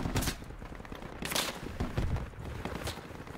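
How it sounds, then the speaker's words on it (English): Rapid bursts of gunfire in the military shooter Project Reality, with several sharp shots and volleys spread across the moment, some close and some more distant, continuing without pause. "Someone's shooting."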